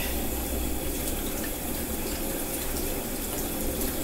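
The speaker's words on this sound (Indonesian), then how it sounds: "Lepas tu air limau sikit." Lime juice poured into a wok of kuey teow simmering with squid sauce and prawns, heard as a steady close liquid hiss and bubbling wash filling the whole stretch, with no talk.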